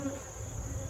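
Honey bees buzz steadily around a row of backyard hives in autumn, a continuous low drone of many insects close by, with no talk over it.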